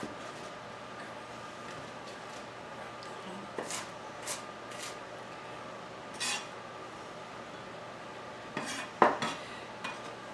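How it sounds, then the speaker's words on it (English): A knife knocks through finely chopped cabbage on a cutting board while Thai spring rolls are being made: a few sparse, soft taps spread across a quiet kitchen background, with a slightly louder cluster near the end. "Just chop it finely. 2 cups of cabbage."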